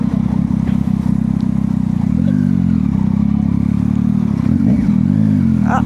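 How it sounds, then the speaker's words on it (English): A Yamaha MT-09 motorcycle engine drones steadily while riding, with a low throaty exhaust rumble that shifts pitch slightly as the throttle changes. "Mostly what I do is just ride and then record my exhaust."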